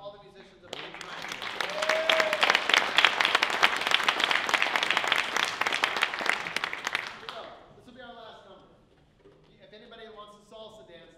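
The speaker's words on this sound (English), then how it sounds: "Let's have a round of applause for all the musicians that are here tonight" Audience applauding jazz ensemble musicians at a concert, a dense burst of clapping that swells and then fades, with a voice speaking before and after.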